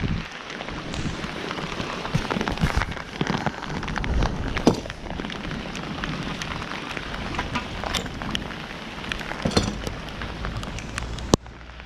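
Heavy rain during Storm Boris in Nottinghamshire, UK, a steady close downpour of dense hiss and pattering drops lasting throughout, with occasional sharper splashes and gusty rumble.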